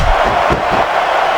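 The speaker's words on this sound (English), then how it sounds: "the crowd has come alive tonight with a chant directed at the superstars in the ring" Video game crowd in WWE SmackDown vs Raw 2006 during a women's submission match, a loud, steady arena roar with rhythmic chanting swells, close and continuous throughout.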